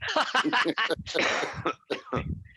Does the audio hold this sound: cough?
yes